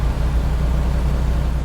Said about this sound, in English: Just needs a decent engine sound.